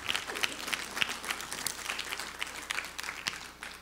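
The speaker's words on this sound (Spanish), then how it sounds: "Den un aplauso al Señor" A church congregation applauding during a general worship meeting, sustained clapping from many people, moderately distant and even.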